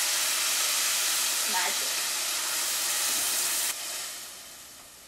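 Diced fresh tomatoes hitting a hot pan for a chickpea curry, giving a steady loud sizzle and hiss that eases off partway through, with a brief word spoken over it.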